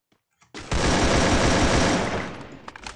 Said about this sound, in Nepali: गाइज युनिकन एके भर्सेस हाम्रो ड्रागन एके कस्तो चल्यो